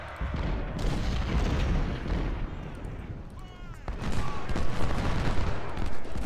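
In the strategy game Ultimate General: Civil War, 20-pounder artillery fires counter-battery salvos, a dense rolling barrage of booms and cracks. Speech is heard over the sustained gunfire.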